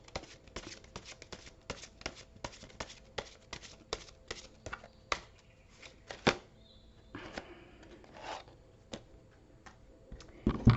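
Tarot cards are shuffled by hand in quick riffling bursts of sharp clicks and soft slaps, quiet and close, with short pauses between rounds.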